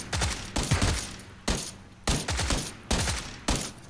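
Gunshots ring out in rhythmic, evenly spaced bursts during a PUBG match, loud and close, each volley cut off sharply before the next.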